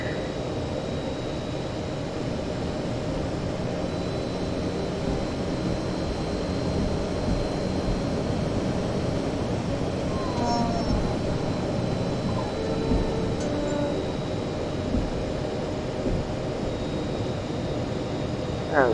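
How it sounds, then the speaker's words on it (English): A Fokker F27 turboprop spools up to full takeoff power in a Prepar3D simulation, a dense steady roar with a faint high whine running through it, loud and continuous with no talk. "And so it'll be a full power takeoff"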